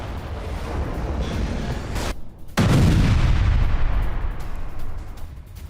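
Bombing explosions strike an industrial area near Beirut airport: a heavy, rumbling roar gives way to a sudden short gap, then a loud deep boom that slowly decays into a distant rolling rumble.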